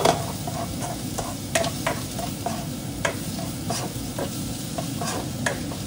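Garlic frying in butter in a pan for garlic buttered salmon: a steady close sizzle runs throughout, punctuated by repeated sharp clicks and scrapes of a utensil stirring against the pan.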